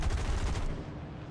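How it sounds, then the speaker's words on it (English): Rapid machine-gun fire and bullets in the War Thunder game, heard from a cockpit during an arcade air battle with Buffalo and Peashooter planes: a dense, fast rattle of shots for about a second, close and loud, then tailing off. "Oh, I can hear the bullets."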